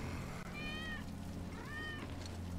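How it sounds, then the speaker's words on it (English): Cat meowing in the Final Fantasy 7 Remake video game, two faint rising-falling meows about a second apart over a low background hum and game ambience. "That's Wedge's cat."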